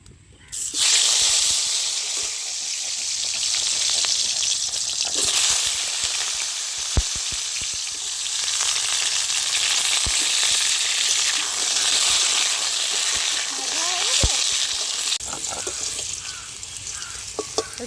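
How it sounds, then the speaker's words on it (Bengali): Potato pieces frying in hot oil in a village home kitchen, a steady broadband sizzle throughout with occasional clinks and stirring knocks, close and moderately loud. "প্রথমে আলুগুলো ভেজে নেব।"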